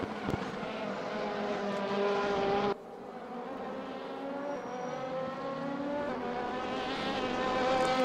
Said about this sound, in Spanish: Buah, el sonido de estos coches, tío, es brutal.